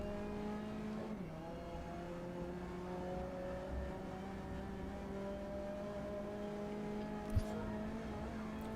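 Racing car engine droning steadily in the Grid Legends video game, a sustained mid-level tone with a brief dip early on and a short sharp knock near the end, no voices.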